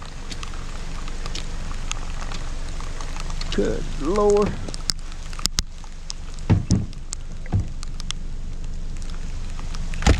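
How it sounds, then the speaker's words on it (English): Steady rain patters and hisses on surfaces with scattered drip clicks throughout, while a person speaks briefly over it. "And it's raining."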